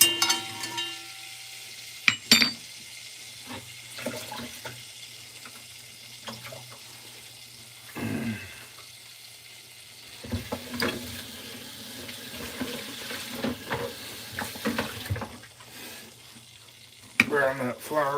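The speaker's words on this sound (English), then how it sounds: "Brown that flour real quick." Flour browns in a pan for stew gravy with quiet, intermittent scraping and stirring, sharp utensil clanks against the pan, and bursts of sizzle and running water scattered over a low background.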